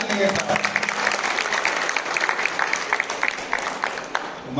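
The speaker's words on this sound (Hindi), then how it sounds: "हमारी भोपाल टीम के लिए जोरदार तालियां" A crowd at a Hindi-language stage event applauds the Bhopal team with a steady, dense wash of clapping that carries on throughout, fairly loud and close.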